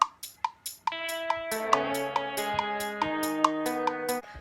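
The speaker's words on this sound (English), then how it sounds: "So just a simple shaker. This is what it sounds like with the rest of my loop." A simple shaker part in a GarageBand beat, first as a few crisp, evenly spaced shakes alone, then layered into the full loop with sustained tones and a steady rhythmic pulse, no voices.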